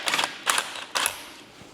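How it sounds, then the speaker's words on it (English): A zip gun spins at a stuck nut on a Yamaha motorcycle, firing three short rattling bursts in quick succession with brief pauses between them. "I'm gonna attempt to spin that nut off with my zip gun"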